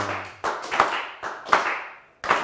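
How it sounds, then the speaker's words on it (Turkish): On a Turkish TV word game show, a few slow, sparse handclaps come in separated bursts, each one sharp and near, with brief gaps of silence between them, a deliberately half-hearted applause. "Üzgün alkış."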